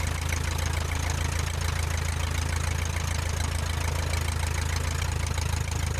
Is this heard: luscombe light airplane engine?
yes